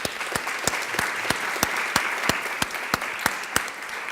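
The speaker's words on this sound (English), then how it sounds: "Give Russ a round of applause." Audience applause at a foster youth internship congressional briefing, honoring a board member: a steady wash of many hands clapping with a few sharp louder claps standing out, filling the room for about four seconds.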